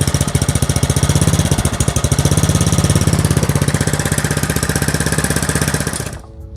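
A small Grunwelt GW 1P70FA petrol engine runs close by with a fast, steady chugging putter, loud and even, then cuts out abruptly near the end.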